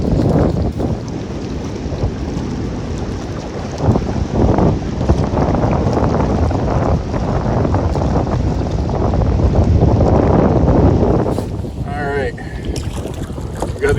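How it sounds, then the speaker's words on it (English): Strong wind roars and buffets the microphone without pause while canoeing the French River's Old Voyager Channel among islands, with water sloshing near the boat and a faint voice partly buried under the gusts. "Hopefully you can hear me over the wind."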